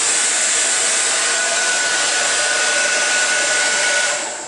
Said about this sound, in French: l'idéal, c'est d'avoir un sèche-cheveux avec un embout peigne